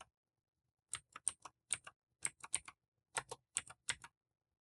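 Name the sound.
typing a command on a computer keyboard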